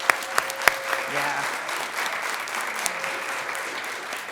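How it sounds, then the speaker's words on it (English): Applause from a small audience at a city commission meeting, a few sharp claps at first and then steady clapping that carries on under a brief spoken word. "So give yourself a round of applause for that."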